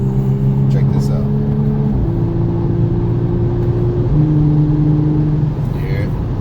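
A 2019 Audi S5 Sportback with an 8-speed gearbox and paddle shifters accelerates hard, its engine droning loudly from inside the cabin with two audible upshifts, while people talk faintly over it.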